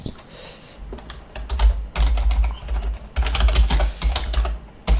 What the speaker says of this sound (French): Mais c'est un nouveau clavier, j'ai un peu de mal avec.